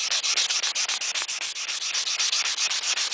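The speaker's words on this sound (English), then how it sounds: "I continue to try to move my paper around so that I get new sandpaper on it, because the grit gets wore down very fast from stainless" Stainless steel trim being hand sanded with 400 grit sandpaper: a steady, rapid back-and-forth rasping of close, fairly loud strokes with no pauses.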